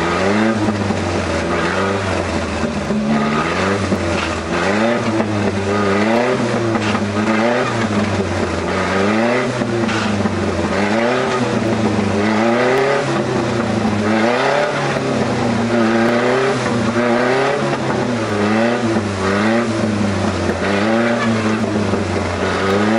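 A pickup truck drives and revs beside a lake in 1993, its engine loud and close throughout with steady, wavering rises and falls in pitch as it accelerates repeatedly.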